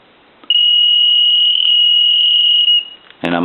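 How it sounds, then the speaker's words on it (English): A telephone ringer sounds one continuous, even, high electronic tone lasting a little over two seconds in an otherwise quiet room, followed by a brief knock or handling noise. "A ring cycle just went by."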